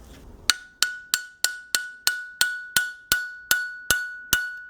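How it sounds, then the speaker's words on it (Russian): About a dozen sharp hammer blows strike an Audi A6 C5 rear brake caliper mechanism at a steady, even pace, each hit loud, close and ringing with a bright metallic tone. "даже молотком не хочет идти"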